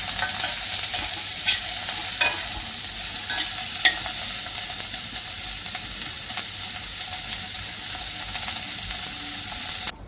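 Chopped onions sizzling in oil in a pan for Maharashtrian sev bhaji, with a spoon scraping and stirring throughout; a loud, steady frying hiss with occasional clinks and no talking.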